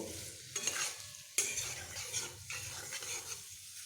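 Batchi fish curry with potatoes and spices being stirred and fried in a pan, a steady scraping spatula rhythm over a light sizzle, close but fairly quiet.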